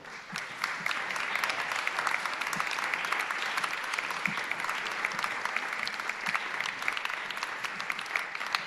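Audience applause greeting female musicians as they arrive at an art-and-forest conference-debate, steady sustained clapping from a crowd in a hall, moderately loud and continuing without pause.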